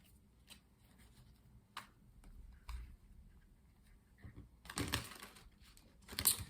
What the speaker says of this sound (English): Let's continue by doing some shuffling so we can pull 7 tarot cards, one for each day of the upcoming week.